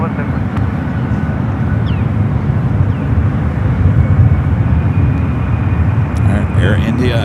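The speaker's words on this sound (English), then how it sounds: "Air India cleared for takeoff. Boy, that 777 is loud." An Air India Boeing 777 heavy jet taking off at San Francisco airport, a steady loud low engine roar filling the whole stretch, with faint radio chatter and wind noise on the microphone.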